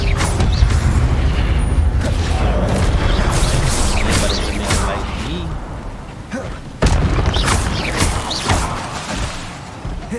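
In the Hogwarts Legacy video game, the Expelliarmus disarming spell is cast amid a loud stream of magical booms, crashes and mechanical clatter, with one sharp break partway through.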